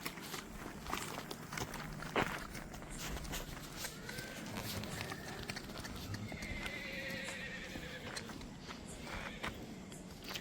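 An 18-year-old Kathiyawadi horse clip-clops on its hooves in a steady walking rhythm and gives a neigh, heard fairly close over faint background noise.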